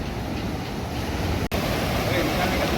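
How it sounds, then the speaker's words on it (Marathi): Big Arabian Sea waves roll onto the shore at Bandra during the Mount Mary fair, a loud broad roar of surf with wind rumble, briefly cut off midway, and no talk. "हे बघा जाम लाटा येतात मोठमोठ्या"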